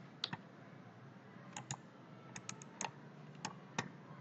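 A computer mouse clicks close and quietly in a few scattered single and double clicks over a faint background hush, with no talk.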